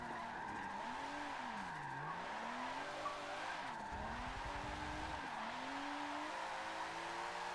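A car drifts in the racing game Forza Motorsport 7, its engine droning continuously under sustained tire squeal, pitch sweeping up and down as the slide shifts, loud and unbroken with no talk.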